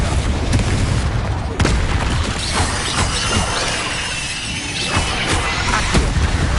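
Confringo fire-blast spell cast in the Hogwarts Legacy video game, heard as loud crashing booms and shattering bursts with crackling debris, dense and continuous over several seconds with sharp hits near the start and middle.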